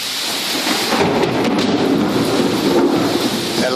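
Loud rolling thunder rumbles through a heavy rainstorm, with dense rain hiss and pattering drops filling the whole stretch, the low rumble swelling and fading continuously.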